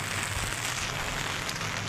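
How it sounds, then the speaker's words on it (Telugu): Dense, even hiss of rain falling on a surface, heard from a rooftop in Nellore, constant and close, with no voices. "వర్షం పడుతుంది"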